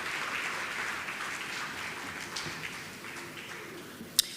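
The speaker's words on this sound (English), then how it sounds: "Please make them welcome with a round of applause" Audience applause at a primary school graduation ceremony welcoming a drama group to the stage, a steady moderate clapping that slowly thins and fades, ending with one sharp louder clap.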